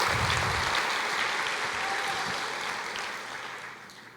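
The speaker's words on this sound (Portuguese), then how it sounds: "Aplauda ao Senhor." A church congregation breaks into sustained applause, a dense wash of clapping that holds steady and then slowly fades.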